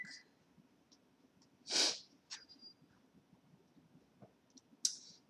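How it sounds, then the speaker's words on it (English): A single sharp sneeze bursts out nearby, followed by a few quiet clicks and sniffs against a low background hum. "So I had to pause to sneeze again."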